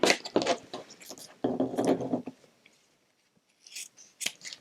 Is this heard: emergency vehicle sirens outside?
no